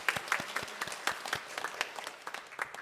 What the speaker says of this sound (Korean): 하나님 앞에 영광의 박수를 한번 올려드리겠습니다